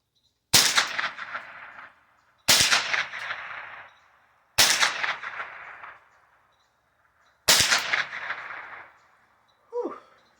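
Four separate shots from an S&W 15-22 .22 LR AR-15-style rifle crack sharply at steady intervals of about two seconds, each one ringing and fading before the next, and a short faint noise follows at the end.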